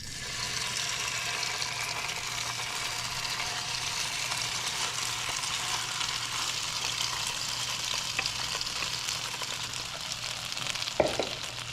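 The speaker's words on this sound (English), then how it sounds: "And then we're going to add the chicken that we have had marinated." Marinated chicken sizzles in a frying pan with a steady, dense crackle from start to finish, close and even, with a brief clatter near the end.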